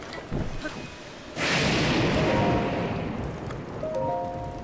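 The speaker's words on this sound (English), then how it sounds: "And it's still raining like an asshole." Heavy rain and rumbling thunder in the video game Breath of the Wild, a loud broadband downpour swelling suddenly and holding steady, with a brief whoosh and faint tonal game chimes layered over it.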